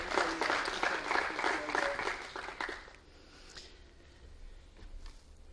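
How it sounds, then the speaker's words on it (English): An audience at a business analyst convention claps for about three seconds, dense and steady, then the applause thins out and fades into room noise. "a round of applause"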